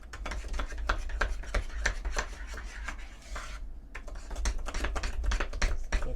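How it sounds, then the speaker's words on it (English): An egg is beaten into chocolate chip cherry cookie batter, making quick rhythmic scraping strokes that repeat steadily and close by, with one brief pause midway. "I'm going to add 1 egg at a time and just get this mixed in"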